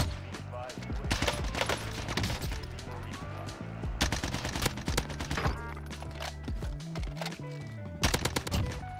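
Rapid bursts of C58 rifle fire in Warzone, sharp repeated shots in clusters across the span, loud and close, with someone talking over the gunfire.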